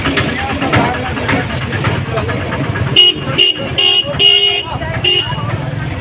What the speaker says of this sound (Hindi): ये देखिए पूरे का पूरे गाड़ी लगा हुआ है जाम बिल्कुल